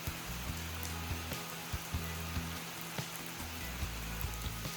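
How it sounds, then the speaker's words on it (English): Steady rain falls on a backpacking trail in the Foothills, a faint continuous patter with occasional louder drips hitting a surface nearby. "It is currently raining and I think it's going to be a wet couple of days"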